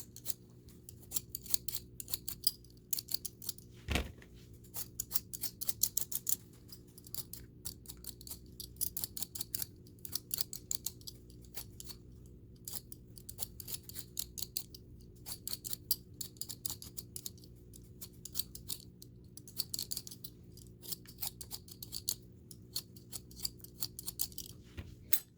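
A handheld potato peeler scrapes along potatoes in a kitchen, giving quiet, quick, repeated scraping strokes in a steady rhythm for the whole stretch, with no talk.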